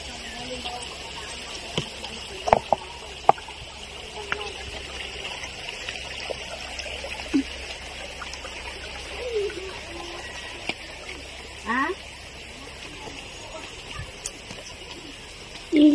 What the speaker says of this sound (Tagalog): Ilog naman ito.